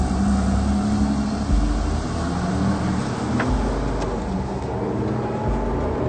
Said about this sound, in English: we're free to drive LaFerrari as fast as we dare